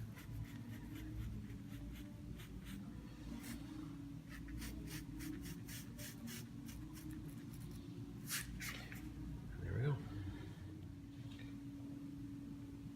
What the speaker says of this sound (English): what I do is I just basically sketch these together